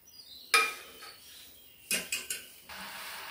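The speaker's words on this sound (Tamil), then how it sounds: "இப்போ வடிகட்டிட்டு மறுபடி வச்சுருக்கேன்" Metal pots and utensils clank and clink while melted jaggery syrup is strained, with a few close, sharp knocks separated by short pauses in a quiet kitchen.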